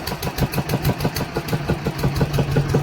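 A motor boat engine chugs at the Ganga ghat ferry in Bhagalpur, a steady, close, loud, rhythmic thumping idle with a fast regular pulse and no talking.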